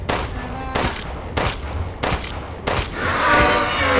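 Gunfire in the video game Resident Evil Village Shadow of Rose: five sharp shots at roughly even intervals, loud and close, followed by a swelling rumble of game sound.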